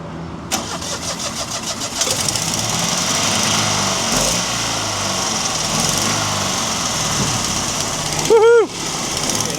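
A Panhard car's engine is cranked and starts after a fuel pump repair, then runs with a loud, steady, buzzy drone close by, ending in a brief rising whine or squeal; no talk.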